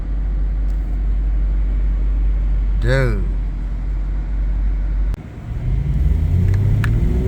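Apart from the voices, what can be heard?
Aston Martin sports car driving past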